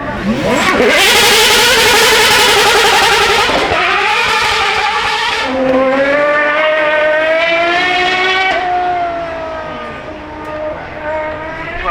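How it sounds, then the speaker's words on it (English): A powerful V12 quad-turbocharged supercar engine at Goodwood Festival of Speed roars and revs up close, its loud rising howl sweeping through gears before easing off. "V12 engine, 4 turbochargers"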